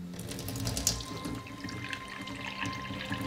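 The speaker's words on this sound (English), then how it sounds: "She's gonna use tap water." Tap water runs steadily from a faucet in the video game The Complex, a soft continuous splashing stream with faint background tones and no talk.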